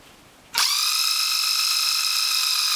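A Makita impact driver that survived a house fire is triggered and whines into a steady, high-pitched motor run that starts abruptly and holds constant and close, after quiet handling noise beforehand.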